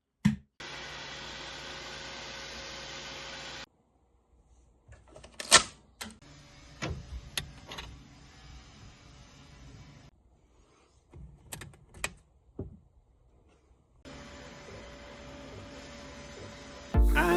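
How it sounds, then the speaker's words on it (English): A 3D printer printing tic-tac-toe game pieces whirs in steady motor stretches broken by clicks, knocks and brief pauses, close and moderately loud, with no one speaking. "let's fire all these pieces off on the printer and see how this thing turned out"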